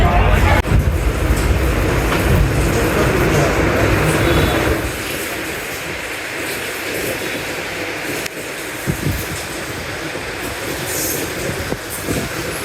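A train at a railway station rumbles loudly at first, then settles into quieter rolling with scattered wheel squeals and clanks, with voices faint in the background.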